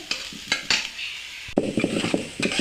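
Masala for a mixed vegetable curry frying in oil, a loud close sizzle with repeated scraping strokes of a spoon or spatula across the pan, rhythmic bursts of stirring over the hiss, no talking.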